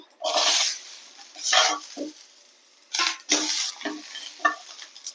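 Onions going into a pan with curry spice powder, heard as loud bursts of sizzling and frying with stirring and scraping in several uneven surges, close up, with no talk.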